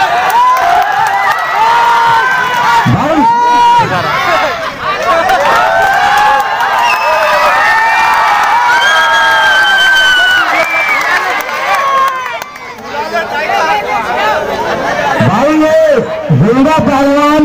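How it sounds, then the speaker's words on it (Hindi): A crowd at a kushti wrestling dangal cheers, whoops and shouts, with some scattered clapping. A loud voice talks over them almost throughout. "तालियां बजाकर स्वागत करिए।"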